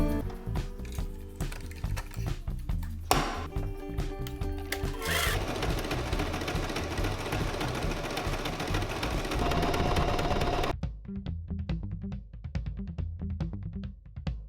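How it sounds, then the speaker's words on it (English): A serger overlocks the seams of stretchy viscose trousers. A fast, loud whirring run of stitching lasts several seconds. Slower starts and stops come before it, and lighter mechanical ticking follows once it halts. "so I have to use the serger"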